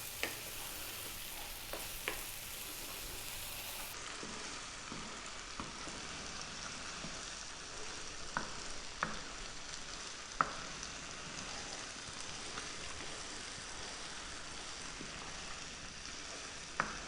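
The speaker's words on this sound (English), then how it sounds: "let's fry this now for about another 4 to 5 minutes" Indian dal of lentils frying in a pan over high heat gives a quiet, steady sizzle, with occasional faint clicks and scrapes as it is stirred.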